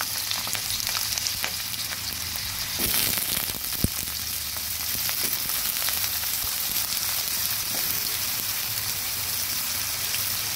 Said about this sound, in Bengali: লম্বা লম্বা করে কেটে রাখা আলুগুলো দিয়ে দিচ্ছি ভাজার জন্য।